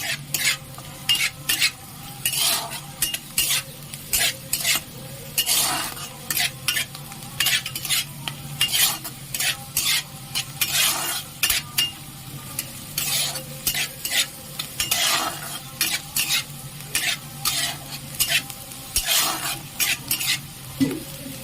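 Green beans and mixed vegetables sizzle in a pan while being stirred for mixed fried rice, with repeated rhythmic scraping strokes of a spatula over a continuous hiss, close and fairly loud.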